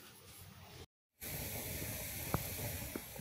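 Water poured onto a hot pot lid gives a steady, bright hissing of steam and sizzle after a short silent gap, with a couple of faint clinks over the continuous hiss.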